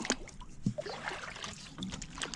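Quiet water sloshing and splashing as a wooden paddle dips beside a small boat, with soft knocks against the hull.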